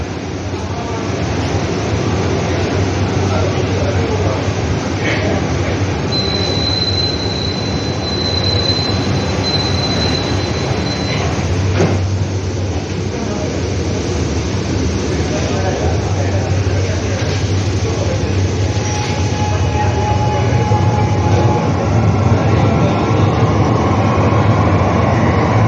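A Mumbai Aqua Line 3 metro train runs near Santacruz station with a loud, steady rumble, brief wheel squeals and a sustained high whine, heard from inside the car.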